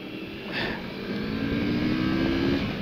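A CFMOTO 650 MT motorcycle accelerating, its engine note climbing steadily under wind rush, heard continuous and fairly loud from the rider's position without talk.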